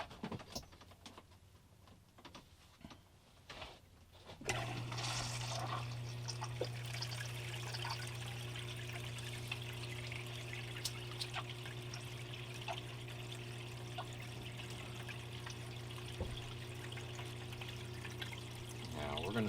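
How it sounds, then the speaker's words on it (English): A gold-prospecting sluice, loaded with wetted pay dirt, starts running after a quiet start: a steady rush of flowing water with a low pump-like hum sets in and holds evenly at moderate level for the rest of the time. "This sluice is ready to go. Let's fire this baby up"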